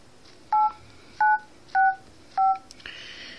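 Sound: Huawei Activa 4G phone dialer keypad tones

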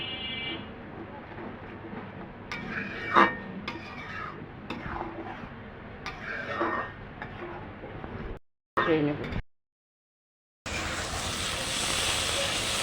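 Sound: stir-frying spice paste in a pan

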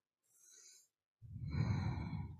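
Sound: deep yoga breathing, inhaling and exhaling

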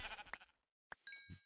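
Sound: sheep bleating in Minecraft video game

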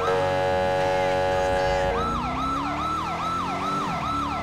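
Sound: police car siren in a video game

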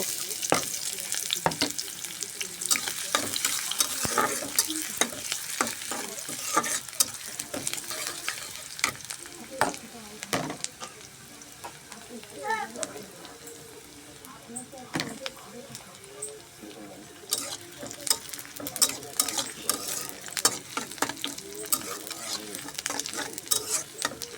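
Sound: onions frying and being stirred in a wok

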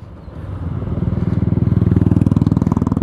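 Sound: motorcycle being ridden and parked

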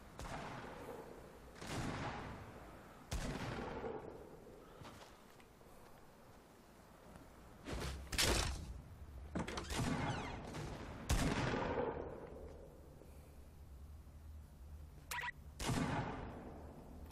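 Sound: gunfire from the video game Fortnite

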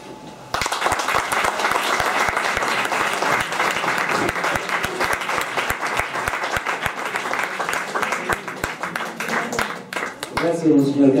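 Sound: audience applause after a speech

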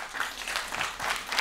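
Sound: audience applause answering question

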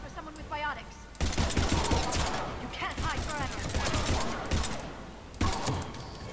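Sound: gunfire in the video game Mass Effect 3

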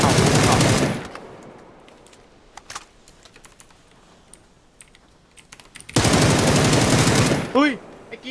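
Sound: gunfire in the video game PUBG

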